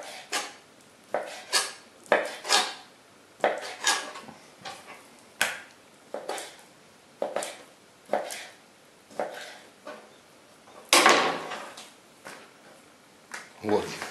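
Repeated sharp knife strikes cutting chicken fillet into strips on a cutting board, a steady series of close, crisp chops with brief pauses, and a louder clatter near the end.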